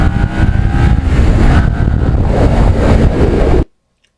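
Riding a restored Kawasaki Ninja motorcycle on a chilly day: a loud, close engine drone with wind rush holds steady, rising slightly in pitch before cutting off abruptly into silence.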